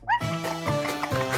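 A person imitates a dog with a short, yelping bark, followed by a drawn-out vocal woof, up close and fairly loud.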